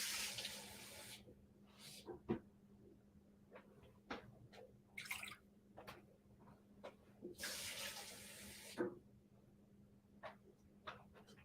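Tap water runs into a measuring cup in a home kitchen, a faint steady trickle broken by small splashes, clinks and knocks of handling, with no voices.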